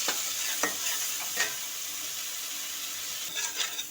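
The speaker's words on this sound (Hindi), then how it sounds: "थोड़ा इसमें डाल देंगे तेल में, थोड़ी देर भूनेंगे" A steady hiss of ginger-garlic spice paste frying in hot oil, with a few scraping stirs of a utensil in the pan.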